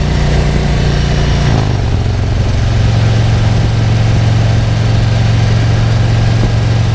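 A motorcycle engine fitted with an S&S 465 cam idles loud and close, a steady low throbbing rumble that shifts pitch slightly near the start and then holds an even, continuous lope.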